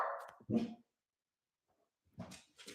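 A dog gives a few short barks nearby, separated by a silent gap, then more yips at the end.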